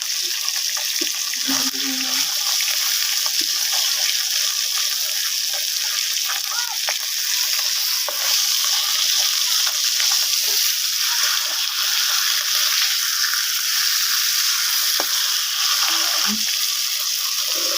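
Rohu fish pieces frying in hot oil, a loud, steady sizzling hiss that runs throughout, with a few soft clinks from the pan.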